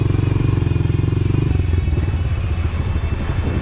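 A dirt bike engine runs on a dirt track with a loud, steady, close throbbing rumble, then its pitch and rhythm shift as the rider turns the bike around.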